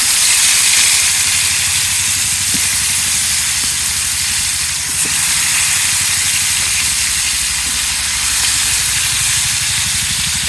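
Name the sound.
fish frying in hot oil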